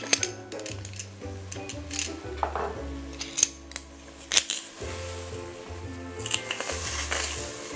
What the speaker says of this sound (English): And then I'm going to press the garlic.